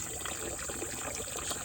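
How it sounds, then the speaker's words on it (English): Clean water pours into a freshly cleaned livestock stock trough, a continuous bright rushing and splashing that holds steady and close throughout. "Nice clean water going into it now."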